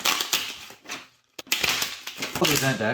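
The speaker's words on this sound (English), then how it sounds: "Shuffle the event deck" Papery, rapid rustling and riffling of a board game's event card deck in several bursts, with a voice speaking near the end.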